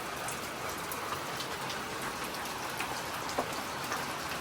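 Rain falls steadily on surfaces, a dense even patter with scattered sharper drops nearby and no voices.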